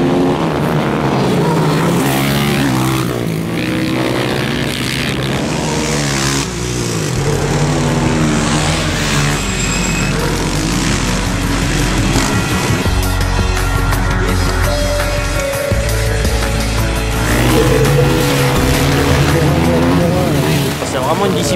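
Quad bikes race on a technical track at Villars-sous-Écot, their engines whining and droning steadily throughout, loud and close, while someone talks over them.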